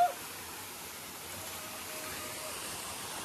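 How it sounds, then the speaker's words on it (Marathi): The first waterfall at Kondana caves near Karjat gives off a steady, soft rushing hiss of falling water, distant and even throughout, with no voices. "इकडून पाणी एकदम खाली चाललंय."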